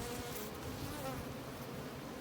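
Honey bees buzz in a dense, steady drone from an open hive, with the close, continuous hum of many insects and no talking.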